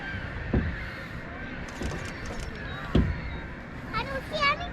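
Birds calling outdoors during a total solar eclipse, with scattered crow-like caws and a few higher chirps near the end, fairly distant beneath steady background noise and people talking nearby.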